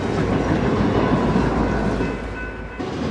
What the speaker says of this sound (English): Let's take a look at a couple trains breaking up some snowdrifts